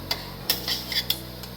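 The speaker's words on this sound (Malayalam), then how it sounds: "അങ്ങനെ ഇപ്പം മിക്സ് ചെയ്യാം" Pasta being mixed in a pot: a spoon clinks and scrapes against the metal in a handful of sharp, irregular knocks over a low, steady hum, close by.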